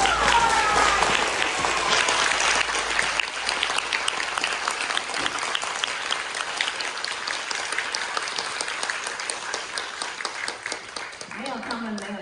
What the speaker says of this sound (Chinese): 站起来给他们热烈的掌声